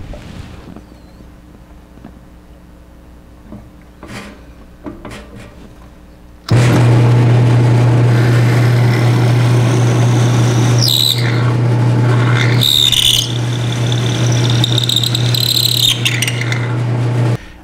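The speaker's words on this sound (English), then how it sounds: "drill a hole all the way through the body of the handle that will receive the dowel" After a quiet stretch of faint clicks, a drill press starts with a loud steady hum and drills a hole through a wooden handle, grinding with squealing bursts as the bit bites.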